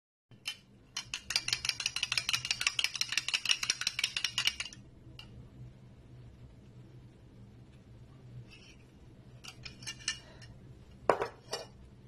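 Eggs and other ingredients are beaten in a bowl for artichoke dolma: quick, rhythmic utensil clinks against the bowl for several seconds, then a quieter stretch with a few scattered taps and clatters.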